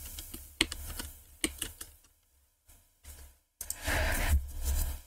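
Typing on a computer keyboard at a PC: quick bursts of keystrokes with short pauses, followed by a denser, louder rattle of keys near the end, close and clear with no talking.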